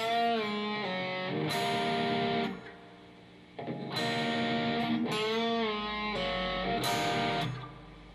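Slightly overdriven electric guitar plays the first part of a song slowly, the phrase repeated twice with bent notes and short chord hits and a brief gap between passes, no speech.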